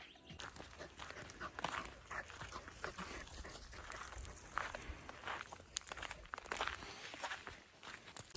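A puppy on a leash walks through the woods, with a steady run of soft, close footsteps and rustling and no one talking.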